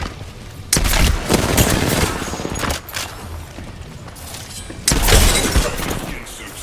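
Gunfire in an Apex Legends match, loud bursts of shots with sharp impacts in two main clusters, close and busy, with quieter stretches between.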